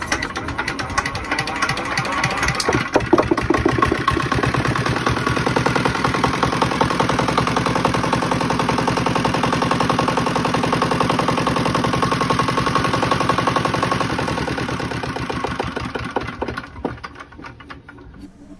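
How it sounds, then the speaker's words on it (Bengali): A second-hand DF 1100 5 HP water-cooled Chinese diesel engine starts and runs steadily, a loud close rapid knocking chug holding an even pace for most of the stretch before dropping away near the end. "চলুন আপনাদেরকে স্টার্ট দিয়ে ইঞ্জিনের সাউন্ড কোয়ালিটিটা শোনাই"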